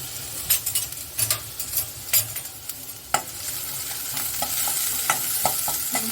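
Onion, chilli and ginger fry in hot oil for a fish curry, a steady close sizzle with stirring scrapes and light utensil clinks in uneven bursts, growing denser and more continuous toward the end.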